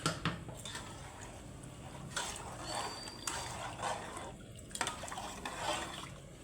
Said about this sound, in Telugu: ఇప్పుడు వాటర్ కూడా వేసేసుకుందాం నాలుగు గ్లాసులు వాటర్